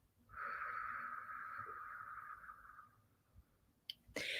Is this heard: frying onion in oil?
no